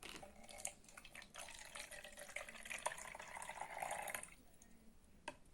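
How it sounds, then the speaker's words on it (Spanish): About 100 millilitres of water poured into a container, a soft continuous trickling splash that fades and stops near the end, followed by a faint drip. "Primero procederé a agregar el agua, 100 mililitros de agua,"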